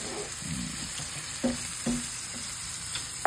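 Shrimp frying in melted butter in a pan, stirred slowly and gently: a steady low sizzle runs throughout, with a few soft scrapes and taps from the stirring and no voices.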